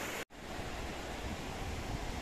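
Waterfall cascades spilling into a bathing pool along a mountain trek trail, a steady broadband roar of falling water that fills the clip, briefly cut out near the start and then continuing loud and close.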